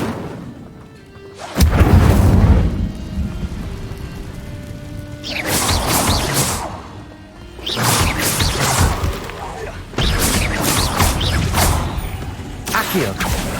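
A spell being cast in the video game Hogwarts Legacy, heard as several loud whooshing, crackling magic bursts in close succession with booming impacts, one after another.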